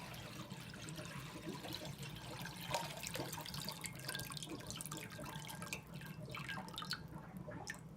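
Cold tap water runs steadily into a sink, a soft continuous splashing and trickling without any voices.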